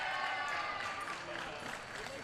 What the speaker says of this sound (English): The Tim Morehouse side is cheering.